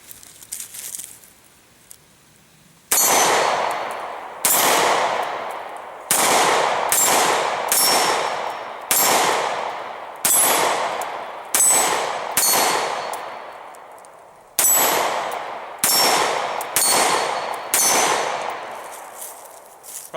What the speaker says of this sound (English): Take a few shots on these steel plates, see if we can keep them on the plates.